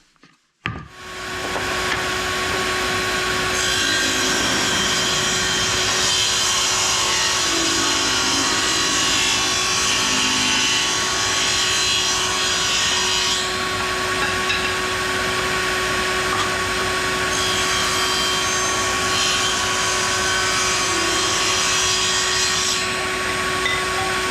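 A table saw rips a run of 1.25-inch-wide wood strips for a toy tractor, a loud steady whine and roar that holds continuously from start to finish with no talking, shifting slightly in pitch as each strip passes through the blade.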